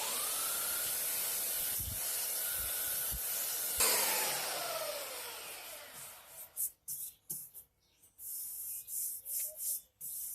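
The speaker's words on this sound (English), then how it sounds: "So be very gentle with the belt sander." A belt sander runs across a glued wooden loudspeaker back panel, a close rasping hiss for several seconds that then breaks into short, uneven bursts of sanding.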